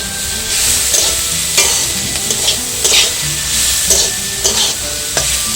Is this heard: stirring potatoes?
yes